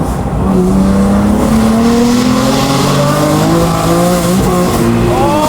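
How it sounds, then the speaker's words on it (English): BMW M4 fitted with downpipes, its engine loud and accelerating from inside the car, pitch climbing through the gears in rising sweeps with a brief drop at each shift, sustained and close. "This car is loud."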